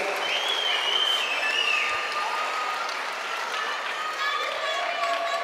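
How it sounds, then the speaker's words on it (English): A packed kickboxing event crowd claps and cheers steadily after a fight, a thick, continuous wash of applause with whistles and shouts rising above it. "let's have a massive round of applause for both of these men after a wildly exciting contest"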